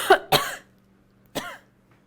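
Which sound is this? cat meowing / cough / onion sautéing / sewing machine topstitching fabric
cough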